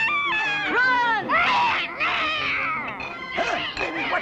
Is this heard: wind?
no